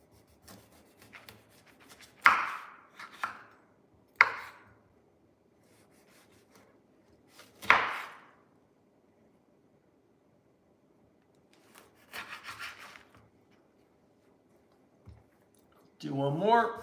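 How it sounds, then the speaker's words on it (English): An orange and limes are sliced with a knife in a kitchen while preparing carnitas. Scattered short rasping cuts and scrapes come through close by, several separate strokes with quiet gaps, and a person talks between them. "we're going to slice up our orange, slice up some limes"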